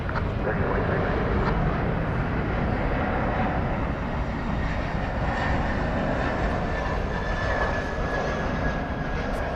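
A jet airliner takes off from runway 18 left at DFW Airport, making a loud, continuous roaring engine rumble with a broad rushing noise that holds steady as the aircraft powers away.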